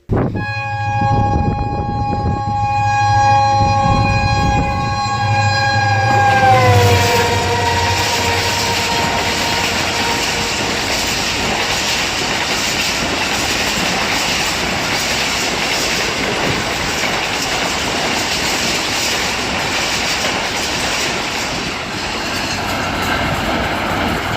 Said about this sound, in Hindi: यहाँ से ट्रेन किस तरह गुजरती है ज़रा एक नज़र वो भी देख लेते हैं।